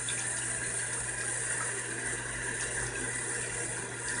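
Tap water runs steadily over a bleached lace closure during rinsing, a constant, fairly quiet gushing wash with a low background hum and no speech.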